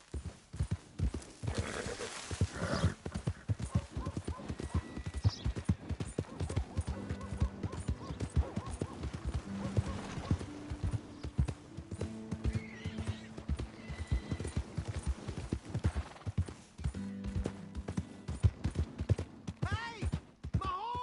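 Horse hooves clip-clopping in Red Dead Redemption 2, a steady run of hoof beats at moderate distance over a game soundtrack, with occasional neighing and a voice talking in places.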